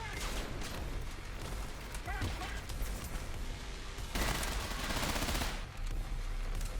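Heavy automatic gunfire sprays across an enemy formation in Trepang2, a loud relentless wash of rapid shots and booms layered with chaotic impacts, nearly constant throughout.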